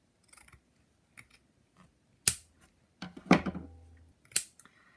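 Scissors snip through folded vintage Japanese fabric, giving a few close, crisp cuts with a rustle of cloth between them. The setting is quiet and no one speaks.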